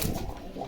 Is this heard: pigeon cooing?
yes